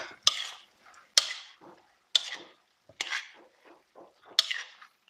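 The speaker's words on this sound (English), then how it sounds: "So I'm going to mix this a little." Vegan Vietnamese-style mushroom salad is tossed in a bowl: about five sharp clinks and brief scrapes of utensils against the bowl, near and unhurried, with no speech.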